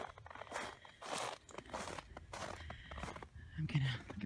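Close footsteps crunch in snow at an uneven pace, with a faint voice briefly audible near the end.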